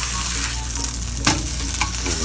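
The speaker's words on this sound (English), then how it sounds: "Now you should hear a little sizzle when you put it on the grill." A seasoned turkey burger patty sizzles steadily on a grill, a loud continuous hiss with a few sharper pops and crackles breaking through, heard up close with no talking.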